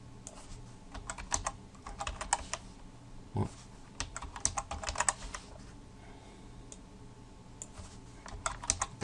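Rapid typing on a computer keyboard while editing PHP code, with bursts of close, crisp key clicks separated by short pauses and a single heavier thump partway through.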